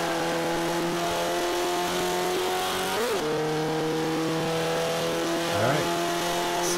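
A B-class racing car in Forza 5 accelerates hard, its engine roaring loud and steady with two quick gear shifts that briefly drop and then climb the pitch again.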